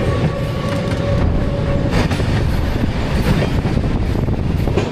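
A passenger train runs steadily past Gaya Junction with a loud, continuous rumble and rattle of wheels on track, heard from inside a carriage with no talking.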